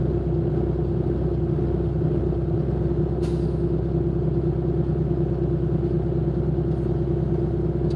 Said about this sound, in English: Truck's kind of noisy. You guys can hear that truck